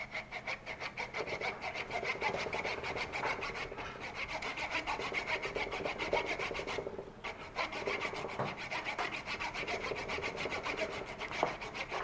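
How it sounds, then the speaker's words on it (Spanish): A fine hand saw cuts low through a double-trunked maple bonsai, the hard wood giving a close, steady, rasping back-and-forth stroke that runs continuously with only a brief pause. "voy a intentar meter una sierra más finita que me permita cortar lo más abajo posible. Voy a ir cortando."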